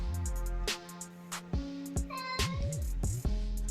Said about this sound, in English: My cat was talking a lot